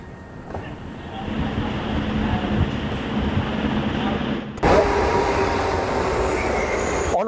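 Train sounds on platform 1 of Sion railway station in Mumbai: a steady, loud rumble of railway carriages with wheel noise, which swells sharply around the midpoint and carries on to the end, with faint voices in the background.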